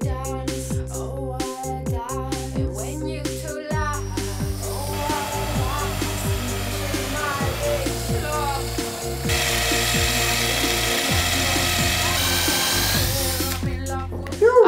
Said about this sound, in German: werden das Ganze jetzt mit so einem Forstnerbohrer vorbohren